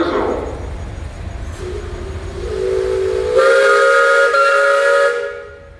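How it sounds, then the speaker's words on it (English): A steam traction engine's whistle blows at a parade, a hiss rising into a loud, sustained tonal shriek that holds for a few seconds before cutting off, close by. "Hey guys, you got a whistle."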